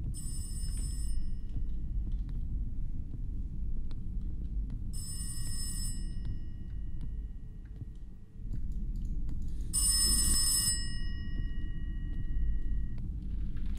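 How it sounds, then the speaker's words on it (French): A telephone in a video game rings in three separate bursts, each about a second long, spaced several seconds apart over a steady low background hum. "Il y a le téléphone qui sonne."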